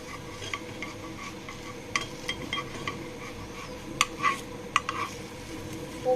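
A flipped flatbread fries in a pan with a soft steady sizzle, and a utensil clinks and scrapes against the pan now and then. The sound is close and there is no speech.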